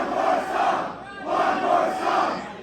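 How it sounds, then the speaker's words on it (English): A concert crowd chants for one more song in two loud rhythmic surges separated by a short dip, many voices blending into a dense roar. "Crowd wanted more though."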